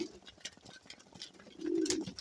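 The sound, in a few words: pigeons cooing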